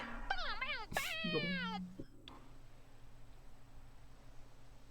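Cat meowing in the video game Lost Records: Bloom and Rage: a couple of clear, rising-and-falling meows in quick succession, up close, followed by quiet game ambience.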